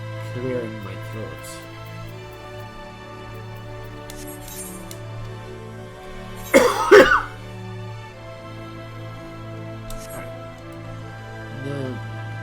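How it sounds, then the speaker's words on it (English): A person clears their throat once in a short, harsh burst in the middle, with a steady low hum and a few soft voice sounds around it. "Clearing my throat"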